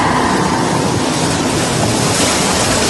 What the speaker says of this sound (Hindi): सिर्फ लहरों की ही आवाजें सुनाई देने लगी